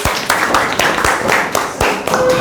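A classroom of students claps together at the end of an Arabic language lesson, loud close hand claps in uneven bursts with brief pauses between rounds.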